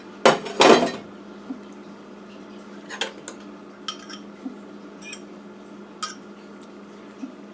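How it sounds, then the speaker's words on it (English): Dry ramen noodles dropped into a bowl on a kitchen counter, with two loud rattling clatters at first, then a series of small scattered clinks and ticks spaced out over the quiet that follows. "Put all the ramen into there and spill as much as you can on the counter."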